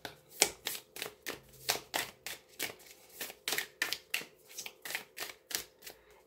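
Tarot cards are shuffled by hand in a quiet room, a rapid run of crisp, evenly spaced riffling snaps that comes close and clear.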